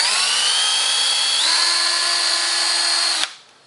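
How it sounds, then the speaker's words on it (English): A power drill with a 1/8 inch bit bores out factory stake points, running as a loud, steady high whine that shifts pitch once partway through and then stops abruptly, leaving near silence. "So I'm going to drill the first one."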